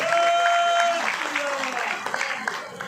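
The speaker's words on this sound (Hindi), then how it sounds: "पूरे समाज की तरफ से एक बार नरेंद्र मेहता जी के लिए जोरदार तालियां होंगी" Applause from a crowd at a Kajari festival gathering in Mira-Bhayandar, steady broadband clapping running throughout at moderate loudness, with some tonal music or voice lines mixed in.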